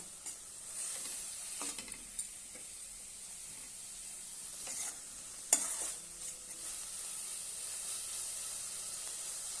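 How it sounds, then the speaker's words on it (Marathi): Methi thecha, a fenugreek-leaf chutney, sautéing in a pan with a soft continuous sizzle and occasional scraping stirs, fairly quiet and close, without voices. "मस्त असे आपण थोडा वेळ परतून घेऊया"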